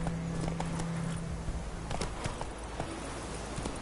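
Horse hooves clip-clopping in a steady walking rhythm, close and continuous over a dense outdoor background, with no talk during the hoofbeats.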